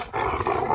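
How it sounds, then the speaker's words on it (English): Dogs in a pack growling during rough play, a short, close, continuous rumbling snarl with no talk. "So you'll hear the growls."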